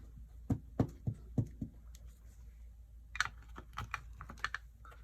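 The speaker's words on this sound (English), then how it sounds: "I'm just stamping it on a scrap piece of paper." A rubber stamp is pressed onto scrap paper in a crafting session, giving a run of close, soft taps and thumps, quick at first and then scattered, in a quiet room.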